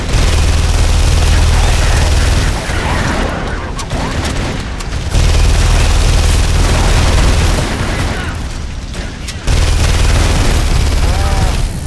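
Gunfire and heavy booms in The Saboteur video game, loud dense bursts of shots that come in waves with brief lulls, while a voice talks over them.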